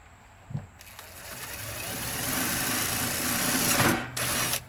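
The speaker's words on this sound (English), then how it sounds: "go ahead and drill that one hole just to start with" A power drill with a 3/16-inch bit whirs steadily for several seconds as it bores into wood, the pitch wavering slightly as it works, with a brief knock near the start.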